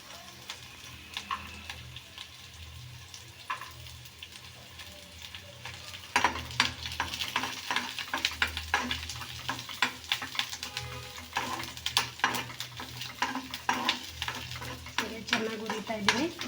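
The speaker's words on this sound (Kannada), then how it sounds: "ಚೆನ್ನಾಗಿ ಹುರಿತಾ ಇದ್ದೀನಿ." Garlic frying in oil in a pan while cooking curd sambar, with continuous sizzling, scraping stirs and utensil clinks that grow busier and louder partway through.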